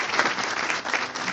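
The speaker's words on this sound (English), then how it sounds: "So let's give Carla a great round of applause." An audience at a chamber of commerce awards luncheon bursts into warm, steady applause, a dense patter of many hands clapping with no voices heard.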